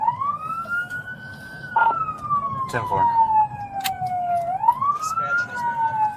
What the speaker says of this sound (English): deactivate your license sirens, please. 10-4, they're on.